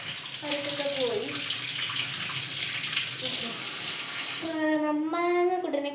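Mangoes are washed under a running tap, a steady close stream of water splashing throughout, with a voice talking softly over part of it.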